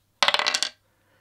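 A die tumbles and clatters on a hard surface for about half a second, a quick run of close, loud rattling clicks that stop abruptly, followed by near silence.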